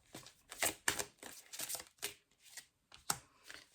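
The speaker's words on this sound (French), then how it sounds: "Donc, on va prendre 5 cartes." Tarot cards being handled and drawn for a reading: a quiet series of crisp papery riffles and flicks in short, irregular bursts, close by.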